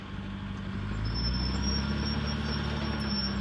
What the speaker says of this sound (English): it's a tractor back there somewhere